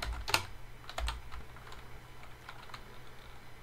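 A command being typed on a computer keyboard, with a burst of crisp keystrokes near the start and then sparser, lighter clicks trailing off, heard close with no voices.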